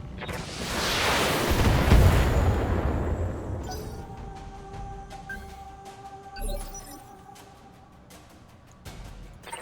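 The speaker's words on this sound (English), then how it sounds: "the base turrets are firing" Base turrets firing in BattleTech give a heavy explosive blast that rolls into a long low rumble, followed by scattered sharper cracks and a thud further back as the noise fades out.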